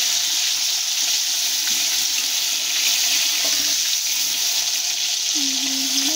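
Fish sizzle and crackle steadily in hot oil in a frying pan during a Bengali boro fish curry recipe, a constant bright hiss that stays loud and unbroken throughout.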